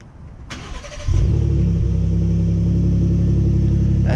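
V6 car engine on a cold start: a starter whine and a catch, then a steady low rumbling idle that holds, close and loud, with no voices over it.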